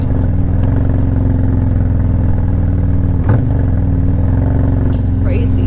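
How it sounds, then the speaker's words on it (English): Road traffic and engine rumble heard from a 2023 Harley Road Glide ST while riding, a loud, steady low drone with a brief clatter midway and a faint higher squeal near the end. "Lots of traffic out here today."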